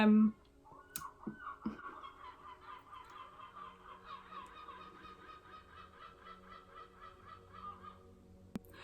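Seagulls cackle in a steady, fairly faint chorus of repeated nasal calls, with a few clicks and a short burst of talk at the start.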